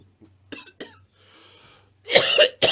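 Two short dry coughs, a faint breath, then a louder burst of harsh coughing close by.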